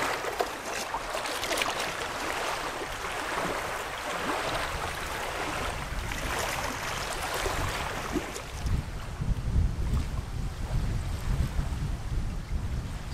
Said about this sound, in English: Wind is kicking up as forecasted